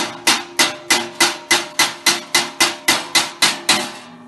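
A hammer strikes steel against a dolly about a dozen times in a steady, even rhythm while shaping a car door, each blow a bright, slightly dull metallic clang with short ringing decay.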